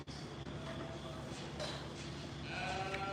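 A Boer goat at a county fair bleats amid the busy livestock barn, its wavering cries rising over a dense background of crowd chatter and other animals.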